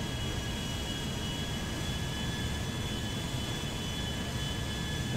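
Giant Air France airliner jet engines in a flight simulation game, a loud steady broadband roar with a faint high whine held throughout, no talking.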